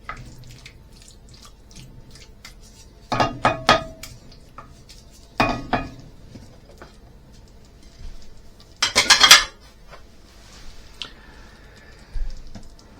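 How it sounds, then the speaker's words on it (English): A spoon knocks and scrapes in a pot as rabbit tagine is mixed, several short clattering bursts separated by quieter gaps, near and fairly sharp. "Give that a little mix. A mix round, like so."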